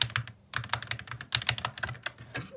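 Rapid typing on a mechanical keyboard fitted with a flipped shift keycap as its spacebar, close-up clacky keystrokes in quick irregular bursts with a brief pause near the start.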